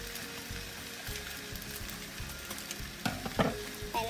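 Spinach sizzling and frying in a pan while a utensil stirs it, with a steady hiss under scraping and clattering stirs that grow louder toward the end. No voices.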